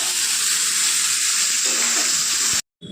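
Kohlrabi, potatoes and beans fry in a pan with a steady, bright hiss that fills nearly three seconds before cutting off abruptly into brief silence.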